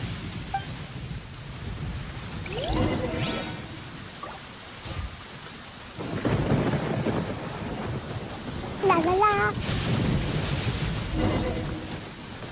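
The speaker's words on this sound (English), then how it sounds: "Uh-oh! Lightning storm!" A thunderstorm with rain and lightning in the video game Genshin Impact: steady rain hiss under rolling thunder rumbles and sharp crackling strikes, with a brief sung voice early on.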